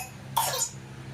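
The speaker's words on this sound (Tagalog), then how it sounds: "Lalo siyang ubo eh." A single sharp cough, close and fairly loud, breaks a quiet background.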